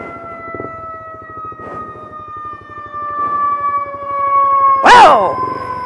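An ambulance siren from a Cikalong ambulance unit in Indonesia wails steadily and loudly close by, with a sustained tone and a rhythmic pulsing underneath, ending in a sharp rising yelp burst near the end.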